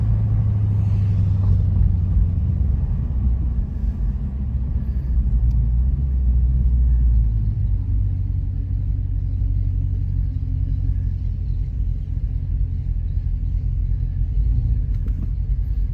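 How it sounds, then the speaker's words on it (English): Muscle cars idling in a queue at the starting point of a rally, giving a steady, close, low engine rumble that holds evenly throughout with no revving bursts and no talk. "there's always a line of cars getting in here"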